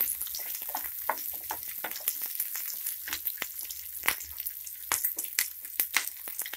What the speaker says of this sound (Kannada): ಇದು ಸ್ವಲ್ಪ ಕಲರ್ ಚೇಂಜ್ ಆಗೋವರೆಗೂ ಈರುಳ್ಳಿನ ಫ್ರೈ ಮಾಡ್ಕೊಳ್ಳಿ.